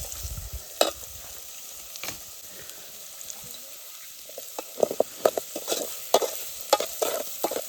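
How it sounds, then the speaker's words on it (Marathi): Sliced onions for a prawn masala sizzle in a pot at an outdoor riverside cooking spot, quiet hissing at first, then sharper clattering stirs scraping the pot in quick bursts. "तर हा कांदा पूर्ण टाकूया आपण"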